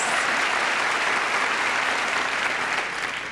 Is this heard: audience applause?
yes